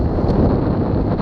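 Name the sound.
strong storm headwind blowing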